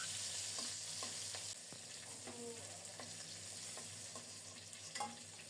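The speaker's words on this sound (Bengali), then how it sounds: "প্রায় 2 মাসের মতো মাছগুলো ফ্রিজে ছিল, তাই লাল লাল করে ভেজে নিচ্ছি।" Fish frying in hot oil in a pan, a steady close sizzle that runs through the whole stretch, broken by faint scrapes and clinks of a spatula, with no talk.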